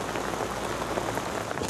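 Heavy rain pours onto a self-draining fishing boat deck, a dense, loud, even hiss of drops with no voices.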